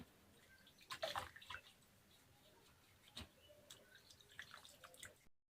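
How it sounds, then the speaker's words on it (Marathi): Water sloshing and splashing up close as whole raw mangoes are rinsed, with a burst of splashes early on, then scattered drips and small trickles. "पूर्ण कैरी अशी धुवून घ्यायची"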